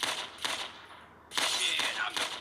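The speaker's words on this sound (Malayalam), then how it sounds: "കുപ്പി വെടിവെച്ച് പൊട്ടിച്ചാണ് നമ്മുടെ ട്രെയിനിങ്" Gunfire in GTA San Andreas as bottles are shot during a training session: several sharp bursts of shots, with a pause, then a denser run of repeated shots close and loud.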